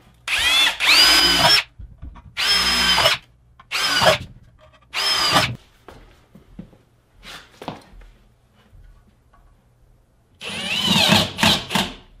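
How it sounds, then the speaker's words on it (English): A power drill bores 3/16-inch holes for mounting a dust collector filter, running in several loud close bursts of one to two seconds separated by quiet pauses, with a few fainter whirs between and a final cluster of short bursts. "Drill some 3/16 holes so I can use these screws again to mount the filter."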